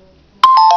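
Beam ringtone starting on a Nokia Lumia 520 Windows Phone: after a quiet moment, a sudden loud bright electronic tone sounds with a few quick pulsing accents, cut off within half a second.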